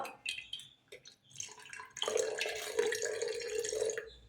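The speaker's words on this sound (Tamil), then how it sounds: "கொஞ்சம் பால் ஊற்றிக்கலாம்." Milk pours into a container while making butter, a close, trickling splash that starts in short bursts and then settles into a steady stream.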